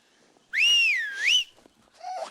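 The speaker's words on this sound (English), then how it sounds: "What about whistling? Oh, yes, go on, try that." A single clear whistle, close and loud, swooping down then up in pitch for about a second, followed by a brief voice.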